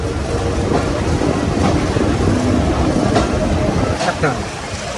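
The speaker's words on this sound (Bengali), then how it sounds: "এই যে দেখেন ট্রেন ছেড়ে দিছে" A train pulls out of Faridpur railway station in the rain, a loud, steady rumble and clatter of the carriages heard from on board, with muffled voices mixed in.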